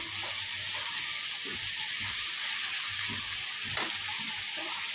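Chopped tomatoes with turmeric and salt frying over a low flame, a soft steady sizzle with a few gentle stirring scrapes, close and quiet, no voices.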